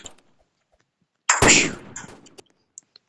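A single sniper rifle shot fired in a video game, a sharp loud crack with a short decaying tail, followed by a couple of faint clicks in otherwise quiet game audio.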